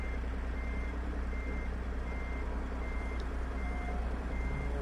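A waiting truck idles with a low, steady engine rumble while a reversing alarm beeps in a regular repeating pattern nearby.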